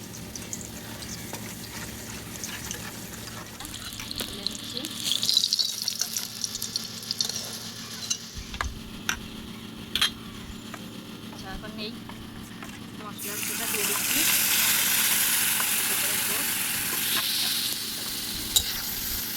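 A gravy of garlic, ginger, cumin and green chilli pastes fries in a pan with stirring scrapes under a talking voice, the sizzle swelling louder and hissier in the final stretch.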